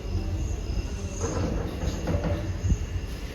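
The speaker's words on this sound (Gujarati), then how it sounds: "ગાઈસ તો ટ્રેન આવી ગઈ ને અમે ચારે બેસી ગયા" A train pulling into Junagadh railway station, a steady low rumble of rolling wagons with faint wheel squeal and clatter, close and continuous without speech.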